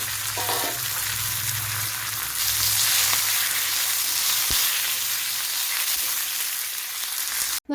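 Curry leaves and two green chillies crackle and sizzle steadily in hot oil for an egg dish, a dense, close frying hiss that runs unbroken throughout with one brief pop near the end.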